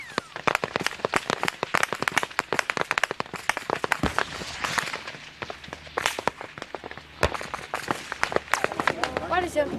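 Gunfire across a United Nations base in South Sudan crackles in rapid, uneven volleys of sharp shots, dense and continuous, with a narrator's voice running beneath it.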